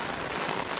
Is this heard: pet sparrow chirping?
no